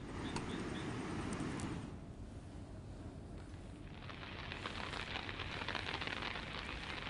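Heavy rain falls in Vyara taluka of Tapi district, Gujarat, making a faint, steady wash of hissing patter whose texture thins briefly midway before swelling back, with no voices.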